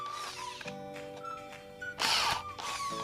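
A power drill bores into a lightweight steel hollow profile for a flower rack in short bursts, the motor whine rising and falling between pauses, with one harsher grinding burst as the bit bites through the metal.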